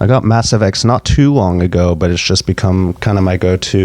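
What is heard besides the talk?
No distinct noise like a dog, phone or traffic.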